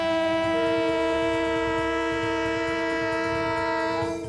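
A freight train at a highway rail grade crossing blasts a loud, sustained multi-tone horn, steady and close, while the low rumble of the rolling cars runs underneath until the horn fades at the end.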